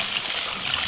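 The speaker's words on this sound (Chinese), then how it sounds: "加水，" Water poured into a pot of braised pork belly, a brief, close, steady rushing trickle.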